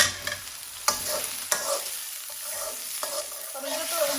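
Dried keshki fish frying in a pan with garlic, green chilies and onion, a steady close sizzle broken by a few sharp clacks of a spatula stirring against the pan.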